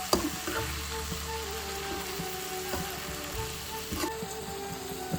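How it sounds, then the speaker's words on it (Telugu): Moringa leaves fry with a steady sizzle and crackle in a pan while a utensil stirs and scrapes now and then, close and continuous with no talk. "ఆకు బాగా మిక్స్ చేసుకోవాలి"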